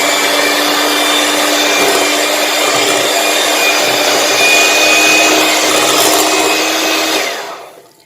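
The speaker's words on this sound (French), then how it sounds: "Je vais venir avec mon batteur mélanger. Ça commence à faire un peu de bruit." A steady electric hand mixer whirs loudly and evenly for about seven seconds beating eggs and sugar, then winds down and stops.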